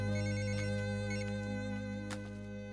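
A phone rings with a steady electronic ringtone, loud and close, continuing without pause and with no talking.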